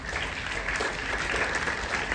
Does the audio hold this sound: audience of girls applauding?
yes